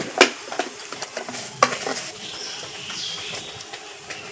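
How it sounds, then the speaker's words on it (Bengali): Sugar being added to 500 grams of reduced, boiling milk in a pot on the stove, with faint stirring and a few sharp spoon clinks against the pot over a low background hiss, no talk. "এখন আমি এই দুধের মধ্যে দিয়ে দেব চিনি।"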